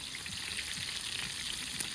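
Steady, close sizzling and crackling of tuna frying in hot oil while camping, a continuous hiss with small pops.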